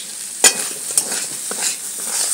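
Prawns sizzle in hot oil in a kadai for a Bengali doi chingri curry, a soft crackling hiss punctuated by a few sharp clinks of a spatula against the pan.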